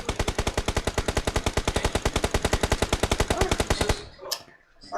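Automatic gunfire in the mobile game PUBG Mobile, a long rapid burst of evenly spaced shots, loud and close for about four seconds, then stopping abruptly into quieter game sounds.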